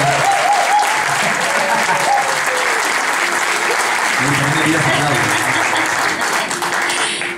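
A concert crowd in an auditorium gives loud, steady applause for a singer at a tribute concert, with a host's voice talking over the clapping as it continues and tapers slightly at the end.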